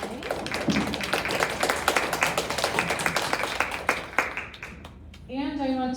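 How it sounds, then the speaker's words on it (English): Audience applause at a school spelling bee, a dense, steady round of clapping that holds for about five seconds before fading, after which a voice begins speaking. "First, I want to give a round of applause to everybody again for qualifying."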